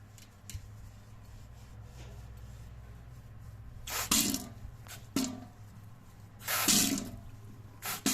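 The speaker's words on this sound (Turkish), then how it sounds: "Pardon suyu da açıyorum bu arada" Water runs intermittently from a bathroom sink faucet during cleaning. Several short bursts of splashing flow rise over a low steady background and then stop again.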